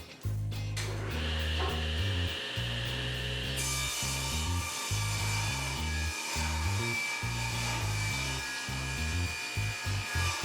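A table saw rips a board to 1.5 inches wide, a loud steady whine with a low stepped drone that shifts as the wood feeds through, running continuously with no talk.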